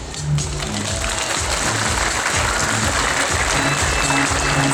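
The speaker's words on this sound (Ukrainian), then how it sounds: "Тож привітаємо гучними оплесками" An audience claps loudly and steadily at a school opening ceremony, a dense, continuous applause that holds for the whole stretch with no voices over it.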